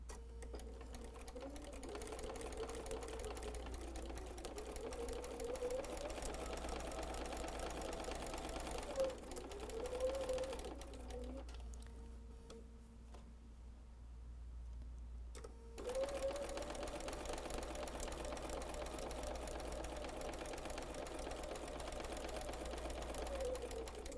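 A sewing machine stitching quilt pieces with a quarter-inch seam: a steady fast mechanical whir and needle tapping, near and continuous, with a short pause midway before stitching resumes.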